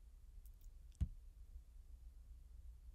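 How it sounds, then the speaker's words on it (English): One sharp computer mouse click on a link, crisp and close, standing alone against a faint, quiet background. "Another way to get to the same information is by clicking this link"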